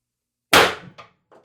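A single sharp blast from an IntruBuster G2 launcher firing an ART 8 gram S-type round, loud and close, with a quick decaying rattle and two fainter clunks afterward.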